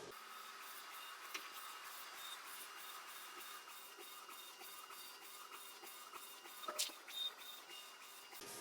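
Printer printing with a steady mechanical whir and a regular rhythmic ticking of the print head moving back and forth, faint and continuous, with a couple of brief clicks near the end and no talking.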